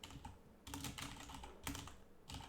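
Keys clatter in quick bursts as a command is typed on a computer keyboard, close and steady with short pauses between runs of keystrokes.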